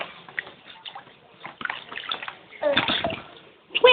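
Water splashes and sloshes in a small children's pool, close and intermittent, with a louder burst of splashing near the end while a child and an adult talk over it.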